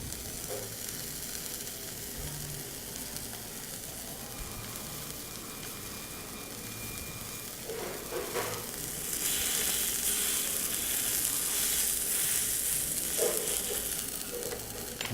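Beef cooking medium rare in a hot pan for a Thai beef salad sizzles and hisses steadily, quiet and close, growing brighter and louder in the second half with a few clinks of utensils.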